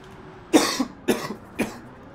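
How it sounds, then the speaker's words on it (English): Three separate coughs, each short and harsh, spaced about half a second apart, close to the listener with quiet between them. "I'm sorry about the coughing."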